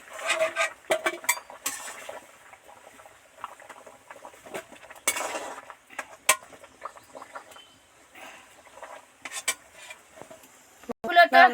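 Soft boiled potatoes are lifted out of their cooking water in a pot, with scattered light clinks and knocks of utensils against metal, quiet overall, ending in a louder clatter.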